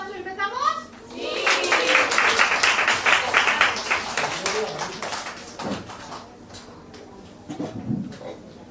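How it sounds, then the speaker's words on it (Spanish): Children in a theatre audience break into loud, enthusiastic applause before a Snow White performance, a dense burst of clapping that swells and then tapers off, with kids' voices calling out around it. "¿Le damos un fuerte aplauso y empezamos?"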